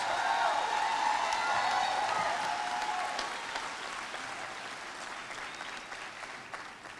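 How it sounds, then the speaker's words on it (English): Sustained applause from a large crowd at a high school commencement, loud and steady at first, then gradually tapering off while still continuing. "Let's give them another round of applause."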